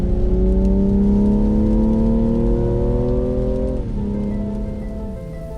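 A new BMW accelerates on a rain-soaked road, its engine tone rising steadily through the gears over the hiss of rain and tyre spray, close and loud, with a shift near the end.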